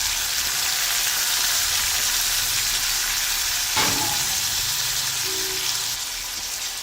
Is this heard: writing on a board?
no